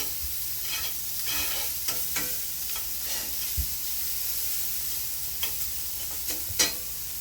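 Shallots sizzling in a hot pan alongside searing scallops, a steady frying hiss with occasional scrapes and stirring knocks, close and moderately loud, no voices.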